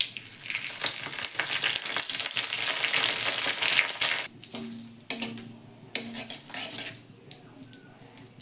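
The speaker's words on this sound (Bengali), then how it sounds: "আমি সর্ষের তেলে করছি। পাঁচফোড়ন দিলাম, কারি পাতাটা দিয়ে দিলাম" Panch phoron and curry leaves sizzle loudly in hot mustard oil, a dense crackling fry that eases after about four seconds into quieter sputters broken by a few sharp stirring clatters.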